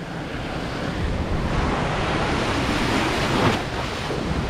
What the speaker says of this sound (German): jetzt kommt der Wasserfall